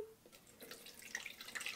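Rice water drips and trickles through a small strainer into a container below, with light, irregular splashes throughout and no talking.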